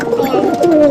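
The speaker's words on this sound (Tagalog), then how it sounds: "Ito yung mga kalapati natin." Racing pigeons coo softly nearby, low rolling calls repeating over a faint background hum.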